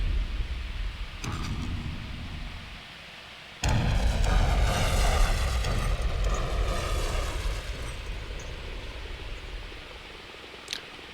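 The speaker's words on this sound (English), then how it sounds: "There's one of the helicopters there." A helicopter in the video game ARMA roars with a loud, steady rotor and engine wash that surges abruptly after a quieter stretch, then gradually fades with a faint click near the end.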